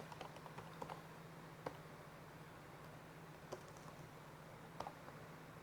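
Someone taps a number into a Java program's console on a computer keyboard: sparse, faint key clicks spaced irregularly over a low steady room hum, with no talking.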